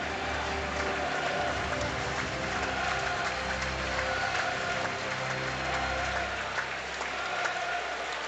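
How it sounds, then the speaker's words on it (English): Applause and crowd noise fill a stadium before the UEFA Cup final between AC Milan and Sevilla, as the Sevilla players applaud their supporters; a dense, steady roar of clapping and cheering runs throughout without a break. "the Seville players just applauding their supporters"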